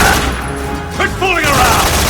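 A loud gunfire volley in Metal Gear Solid 3 Snake Eater blasts as a dense burst, dipping briefly before another roaring barrage, with voiced game dialogue mixed in.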